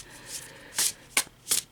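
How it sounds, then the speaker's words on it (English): A deck of tarot cards is shuffled by hand in close, crisp bursts, three sharp riffling rustles in quick succession after a softer shuffle at the start, with no talking. "I'll keep shuffling until one is very clear"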